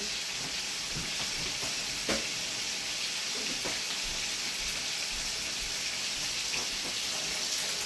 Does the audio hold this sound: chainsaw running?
no